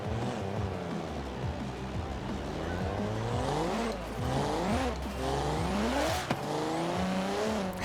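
A 1000-horsepower Alfa Romeo 155 in Forza Horizon 4 revving hard through repeated gear shifts, the engine note rising and falling with tire squeal, loud and close.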